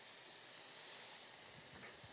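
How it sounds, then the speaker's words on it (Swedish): Bacon sizzles in a frying pan with a soft, steady hiss and faint crackles, quiet and close, with no talking. "Jag tar och börjar steka baconet."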